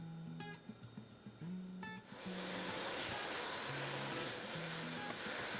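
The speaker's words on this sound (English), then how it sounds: "for cutting MDF, I have an 1/8 of an inch compression cutter loaded in" A CNC router fitted with a 1/8-inch compression cutter cuts MDF, starting with a few short stop-and-start hums and rising after two seconds into a loud, sustained, broadband whine and roar that continues steadily to the end.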